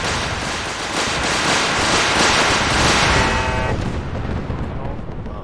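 Missile explosions in the video game Fallout 4, a loud sustained rumbling barrage of blasts and booms that swells then tapers, with game noise layered over it.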